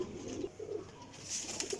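A teddy golden pigeon coos in a few soft, low murmuring phrases, fairly close, with a brighter rustle or chirp rising near the end and no one speaking.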